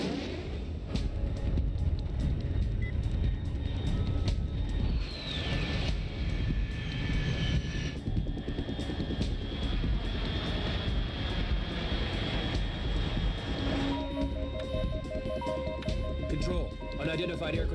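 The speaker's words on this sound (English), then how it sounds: "Unidentified aircraft detected." In Metal Gear Solid 3, an aircraft engine roars steadily overhead with a passing whine, while voices speak over the sustained drone.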